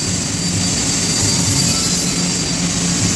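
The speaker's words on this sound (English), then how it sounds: "Doing a little 6061 T6 aluminum using a 5356 alloy filler rod." TIG welding of quarter-inch 6061 T6 aluminum with 5356 alloy filler rod makes a loud, continuous harsh buzzing hiss that holds steady throughout, close by and alone.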